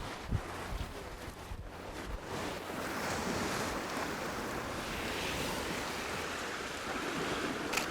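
Ocean waves washing onto Driftwood Beach, a steady broad surf roar that swells and recedes with wind buffeting the microphone, no voices.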